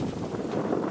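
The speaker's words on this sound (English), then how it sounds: "It's windy and cold out here too." Wind gusts outdoors in a cold, blustery spot, buffeting the microphone with a steady, rumbling low roar through a brief moment without speech.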